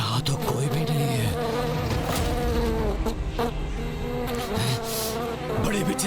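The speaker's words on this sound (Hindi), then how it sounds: "ये भिनभिनाहट जैसे असंख्य कीट एक साथ ध्वनि उत्पन्न कर रहे हैं" Countless insects drone together in a loud, thick buzz that holds steady throughout, the pitch wobbling slightly as the swarm seems to shift.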